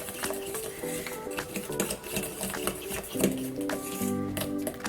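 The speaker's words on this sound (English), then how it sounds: "Mix all that up." Wet pancake batter ingredients for banana pancakes being stirred in a bowl, a steady rapid clatter and clinking of utensil against the bowl, close and continuous with no talking.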